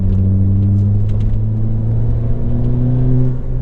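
A 2016 Ford Fiesta ST runs on a wet road with a loud, steady engine drone and a turbo whine, and the blow-off valve hisses in faint bursts.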